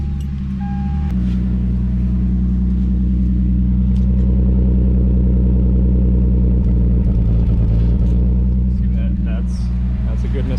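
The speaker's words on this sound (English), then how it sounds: "That's a good misfire." A Lexus IS300 engine runs rough with a misfire, a loud, steady low rumble with an uneven, stumbling pulse throughout, heard close up with no talking.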